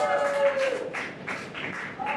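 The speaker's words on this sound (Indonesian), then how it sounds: "Silakan tepuk tangan buat semuanya." A classroom of students claps for their classmates after a lesson on the water cycle, a short scattered patter of hands with children's voices mixed in throughout.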